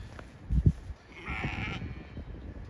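Sheep in a spring lambing pasture, with a couple of short, fairly close bleats early on followed by softer, more distant bleating and rustle against an outdoor background; no one speaks.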